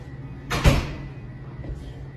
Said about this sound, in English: Did you hear the knock?